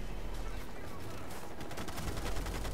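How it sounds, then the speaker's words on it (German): M60 machine gun spraying sustained automatic fire in Ghost Recon: Future Soldier, a dense continuous burst pattern amid other combat noise, loud and close, with the rattle intensifying toward the end. "Ich muss mit dem M60 hier rumsprayen"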